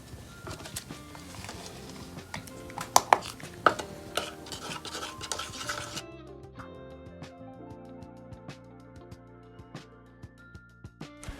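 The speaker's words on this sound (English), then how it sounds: "make sure you stir thoroughly for all the oils to mix together" Facial serum oils, including lavender essential oil, are stirred in a small container, giving light clinks and taps of a utensil against the vessel. The sound comes in irregular bursts, close and fairly quiet, with a soft musical background and no speech.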